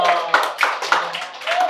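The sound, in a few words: congregation clapping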